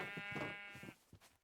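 Minecraft sheep bleating in a video game, a couple of close wavering bleats that fade into a few softer, shorter calls.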